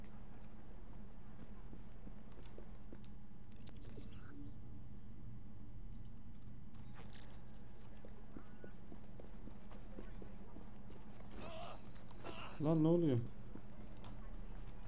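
Horse hooves clattering in the video game Assassin's Creed Syndicate, an ongoing rhythmic clip-clop at moderate loudness, with someone briefly speaking and some other game noises over it.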